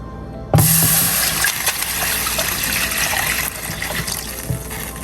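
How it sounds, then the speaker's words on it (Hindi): Water gushes into a kadhai on a stove for a goat lung dish, starting abruptly with a splash and then a loud, steady pour that runs on with little change. "इसमें पानी डालेंगे"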